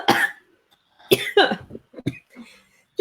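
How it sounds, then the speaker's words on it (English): A person coughing in a fit of several harsh, throaty bursts separated by short pauses, close and fairly loud, with a bit of throat clearing between them and no clear speech. "Just as it goes to going full on live, I get a coughing fit."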